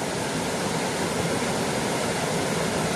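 The Okawase Otaki waterfall near Sanda, a low fall with somewhat sluggish water, gives off a steady, dense broadband rush that holds level throughout with no other sounds.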